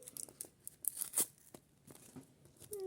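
Paper surprise packet being carefully peeled and torn open by hand, a few short, soft tearing and crinkling rips close up in a quiet room.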